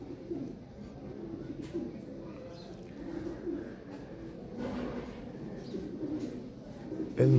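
Big-sized Lahore siraji fancy pigeons cooing in low, steady murmurs that run throughout, with a faint voice briefly in the background.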